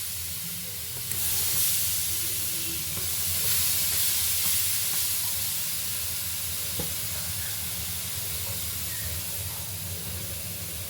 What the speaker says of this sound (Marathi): आपण आता त्याच्यावर पाणी शिंपडूया.